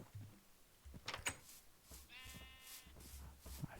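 Sheep bleat in a village in the Minecraft video game: a short, quiet, wavering baa stands out among soft game noises and thumps.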